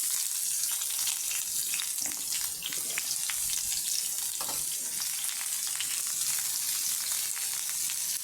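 Onion frying in oil with curry leaves and crushed garlic, a dense continuous sizzle with crackling pops and occasional stirring, close and steady throughout.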